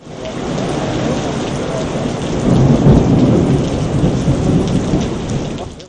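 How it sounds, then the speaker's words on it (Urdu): Heavy rain from a thunderstorm hammers down in Pakistan, a loud, dense and unbroken roar with deep thunder rumbling through the middle, and no voices. "چکر گڑھ اور گردنوا میں بھی گرج چمک کے ساتھ بارش ہوئی۔"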